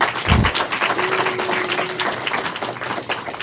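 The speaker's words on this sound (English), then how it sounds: "Give him a round of applause." Studio audience applause on a school quiz show, steady clapping that swells then holds across the whole stretch, fairly close and full, with a brief low thump near the start and a faint tone running through the middle.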